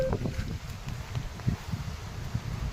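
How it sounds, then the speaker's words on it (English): Strong hurricane wind gusting through a neighborhood with palm trees, a constant heavy roar and buffeting rumble against the microphone, loud and unbroken throughout. "The wind's really picking up"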